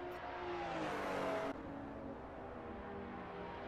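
BMW M235i race cars in the racing game Assetto Corsa at the Nürburgring sprint circuit, a steady engine drone with a rising whine that cuts off and settles into continuous road and motor noise, moderately loud and alone.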